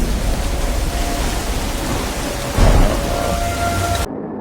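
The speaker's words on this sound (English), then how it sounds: "On top of it being pitch black, now you got the torrential downpour." Torrential rain pours steadily through a jungle at night, a dense close hiss with thunder rumbling low underneath and a heavier surge midway before the sound cuts off abruptly.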